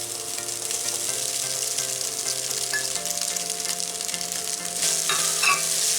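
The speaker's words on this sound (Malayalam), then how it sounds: "നന്നായിട്ടൊന്ന് ഫ്രൈ ആയി വരട്ടെ. ഒരു 5 മിനിറ്റ് നല്ലപോലെ ഒന്ന് ഇളക്കി കൊടുക്കുക." Potato rice fries in a pan with a steady, loud sizzle as a spoon stirs it, scraping and clinking against the metal, with a tone running under it and a brief rise in crackle near the end.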